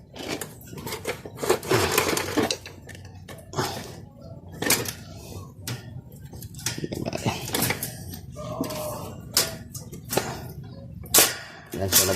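An electric fan's casing is opened by hand, giving a run of sharp plastic clicks, snaps and scraping knocks at close range, with someone talking intermittently between the bursts.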